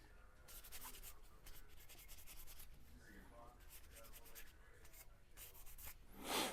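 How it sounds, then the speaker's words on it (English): Close, faint rubbing of a brush scrubbing the outside of a rifle, in quick repeated strokes with short pauses, ending in a soft louder swipe. "On the outside, do a little scrub down."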